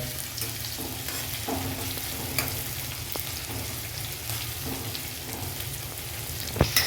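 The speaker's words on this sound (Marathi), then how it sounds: "मिरच्या आपल्या चांगल्या फ्राय होत आहे आणि त्याच्यात आपण टाकणार आहे जी आलं लसूणची पेस्ट" Green chillies and ginger-garlic paste fry and are stirred in a pan for pav bhaji over a high gas flame, a steady close sizzle with scraping spoon strokes and a couple of sharper clinks near the end.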